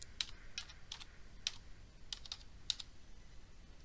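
Keys tapped on a computer keyboard, about eight faint clicks in quick irregular bursts over a quiet background.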